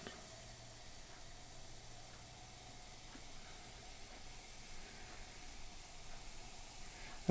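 Vinegar fizzing steadily as it is added a little at a time in a gas identification experiment, a faint, continuous hiss with no talking.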